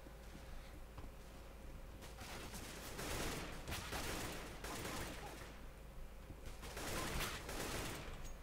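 Rapid bursts of gunfire from a CS:GO match, fast repeated shots clustered in several volleys, moderately distant, with quieter stretches between them.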